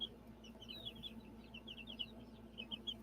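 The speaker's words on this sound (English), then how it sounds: "I gotta figure out which one is Mr. Red, the rolled on red cockerel." A red rolled-on cockerel clucks and chirrups in short, repeated bursts, faint and somewhat distant over a steady low hum, with no talking.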